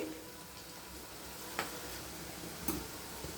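Ingredients sautéing in a pan for a green gram kurma, a faint, steady sizzle with two or three sharp utensil clicks against the pan partway through.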